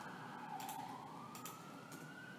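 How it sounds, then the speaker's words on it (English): A siren wails steadily in the distance, its tone slowly rising and falling over a constant background hum of traffic. "I am aware that there are sirens going off behind me."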